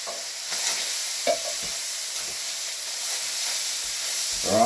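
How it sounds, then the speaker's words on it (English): A steady sizzle of mince frying in a pan, with occasional scrapes and stirring clinks over the constant hiss. "That's frying away nicely."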